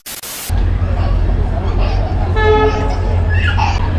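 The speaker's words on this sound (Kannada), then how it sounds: "ಟ್ರೈನ್ ಹೊರಟಿದೆ, ಅದೇ 10 ನಿಮಿಷ ಲೇಟಾಗಿ ಹೊರಟಿದೆ ಅಷ್ಟೇ" A train pulls away from a station, low rumbling engine drone with a brief horn toot, set against crowd babble on a busy platform.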